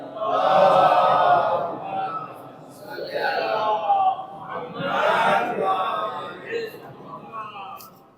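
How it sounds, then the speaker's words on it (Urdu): A congregation at a religious celebration chants salawat together in loud, swelling unison waves, several surges of massed voices rising and falling. "نعرے سلوات پڑھیں آپ لوگ مل کر"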